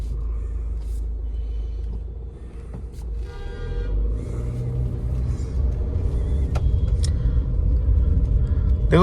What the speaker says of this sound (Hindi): चलो अभी ड्राइव करते हैं।